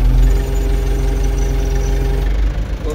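A tractor engine idles steadily on a muddy farm in winter, a low continuous rumble close by, with a faint knock in its rhythm and no talking.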